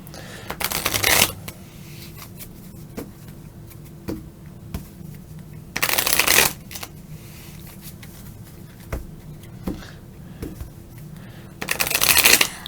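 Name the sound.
shuffling a deck of cards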